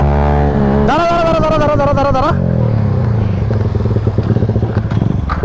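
A Yamaha R15 V3 motorcycle fitted with a new exhaust revs hard and close, its engine note climbing, then fades as the bike rides away, with people talking over it.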